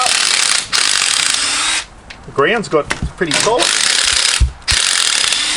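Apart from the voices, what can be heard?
rattle gun driving tent pegs into hard ground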